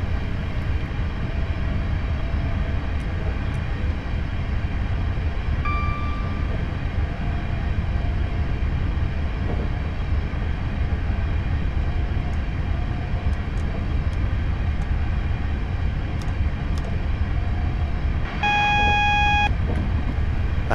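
A train coasts at 65 mph with the power idled in Train Simulator 2015 on a night run from Glasgow Central to Glasgow Airport, giving a continuous low rumble of running gear with a few brief cab beeps and no speech.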